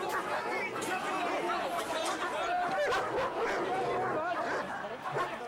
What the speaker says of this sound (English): Just the noise of police dogs and the strength of them